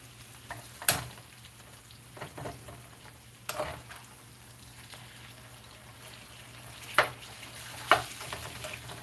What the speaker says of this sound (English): Frying potatoes, by the way.